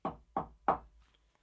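Knocking on wood, imitating Sasquatch tree knocks: three sharp, evenly spaced hollow knocks close by, fading into quiet after the third.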